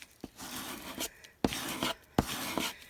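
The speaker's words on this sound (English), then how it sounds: "Really squeegee that down." A squeegee rubs and scrapes firmly over paper run through a Xyron adhesive sticker maker, giving several close, dry rasping strokes in an even rhythm.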